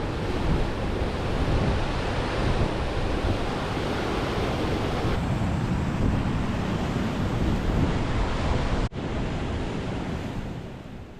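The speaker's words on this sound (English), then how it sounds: "it's actually a waterfall where the salmon cannot get up above" Rushing water from a waterfall on a salmon river in Baxter State Park, Maine, roars as a loud, steady broadband wash throughout, with a brief dip near the end.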